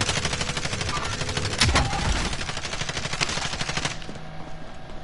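Rapid bursts of automatic gunfire ring out in a PS4 shooter video game, dense rattling volleys with a heavier shot near the middle before the firing thins out toward the end.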